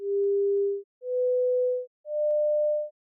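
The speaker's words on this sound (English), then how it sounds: "the participants hearing a series of tones at different frequencies, in their proper order, from lowest to highest" Three steady pure test tones sound one after another, each slightly higher than the last, with short gaps of silence between them and no voices.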